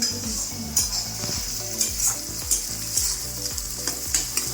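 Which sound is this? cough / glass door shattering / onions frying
onions frying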